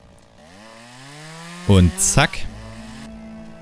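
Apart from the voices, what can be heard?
chainsaw cutting wood in video game Lumberjack's Dynasty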